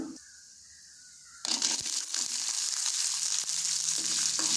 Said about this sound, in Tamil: மிளகையும் பூண்டையும் இந்த ஆயிலே நல்லா ஃப்ரை பண்ணணும்.